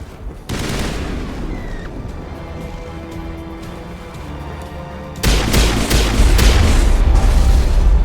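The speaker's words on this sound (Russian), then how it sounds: "Ракета стреляет." Rocket launches and explosions in the video game Mass Effect Legendary Edition: a low, sustained rumble of blasts and gunfire, building into a louder, denser roar of explosions over the last few seconds with no talking.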